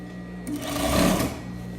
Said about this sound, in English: So I'm going to continue to sew a 1/2 inch.